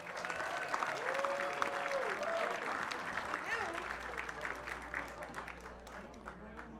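A crowd at a memorial concert applauds continuously for a band, a dense wash of clapping that fades slightly toward the end while a voice talks over it.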